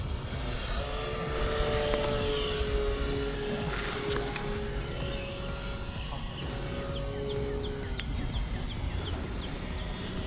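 An E-flite Air Tractor 1.5m RC crop-duster plane flies overhead with a steady, fairly loud propeller drone that holds for the whole stretch outdoors, with no talking.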